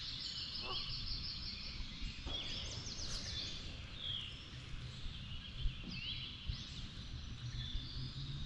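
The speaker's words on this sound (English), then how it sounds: "There's a Canadian goose up here." Canada goose calling over a creek during a regatta, a few distant honks heard faintly against steady outdoor background noise, with no talk.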